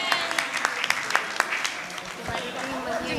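Crowd members at a Jain religious discourse gathering in Guna clap for the organizing team. Sharp, scattered claps ring out in the first half, then fade as a voice carries on.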